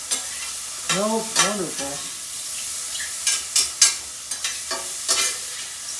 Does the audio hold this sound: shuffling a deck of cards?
no